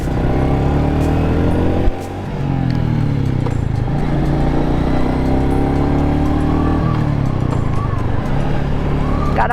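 A Royal Enfield 350 motorcycle on a test ride gives a steady, close engine drone. Pitch shifts around two and seven seconds sound like gear changes, and rushing wind runs underneath.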